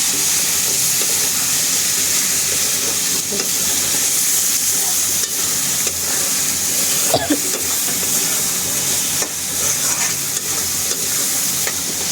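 Small potatoes frying with dried fish in a hot pan, a loud continuous sizzle and hiss with occasional stirring scrapes, close and steady, no talk.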